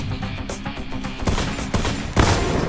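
Rapid rifle fire from Madara in a combat video game, a string of sharp shots at a steady clip with a couple of louder bursts near the end and no talking.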